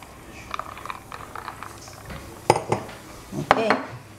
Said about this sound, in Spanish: Ahora le vamos a mezclar la cerveza